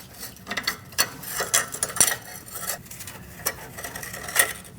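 Socket wrench with an E11 inverted Torx socket working a starter bolt loose on a Mercedes-Benz C-Class V6, giving quick mechanical clicks and ratcheting bursts, close and moderately loud, with no talk.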